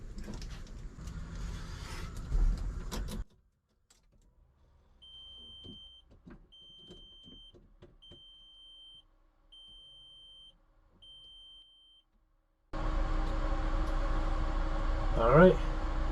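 A car starts up after a gauge install. A short stretch of near-quiet with faint beeping chimes gives way to the engine catching and running at a loud, steady idle, with a brief voice near the end.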